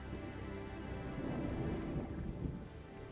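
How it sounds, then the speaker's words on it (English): Thunder rolling as a faint, low rumble, a sustained dull roar with a soft hiss of rain beneath it, distant and quiet. "there is the ear-splitting sound of thunder."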